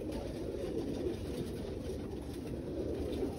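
Birmingham Roller pigeons, including old Norm Ringwood birds, cooing softly in a loft, low murmuring coos over steady background hiss, with no talk.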